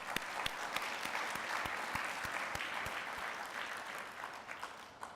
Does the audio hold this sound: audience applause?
yes